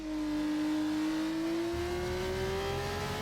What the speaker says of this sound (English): He's revving at 4th gear now.